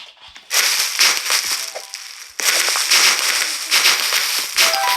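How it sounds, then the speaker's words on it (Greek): In an obby game, a Needoh butter squish toy gets squeezed and gives harsh, crinkly bursts like a plastic bag being crushed, two long loud rustling stretches separated by a brief pause, with no voices. "Το επόμενο είναι αυτό εδώ το βούτυρο που ακούγεται σαν σακούλα"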